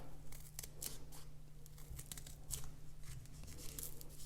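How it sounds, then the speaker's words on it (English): Scissors snip through material in a run of quick, crisp cuts at close range, alone over a steady low background hum. "And then snip off here as well."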